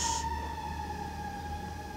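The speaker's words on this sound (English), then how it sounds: "Ambulance." An ambulance siren sounds steadily, a sustained wailing tone heard at a moderate distance under low traffic rumble, with no voices present.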